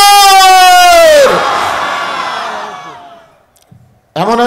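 A large crowd at an outdoor Islamic sermon roars back a loud chanted response to a takbir call, the voices swelling together then trailing off into near silence before a fresh shout begins.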